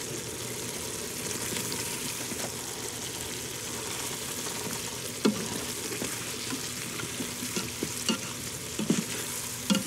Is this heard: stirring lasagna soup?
yes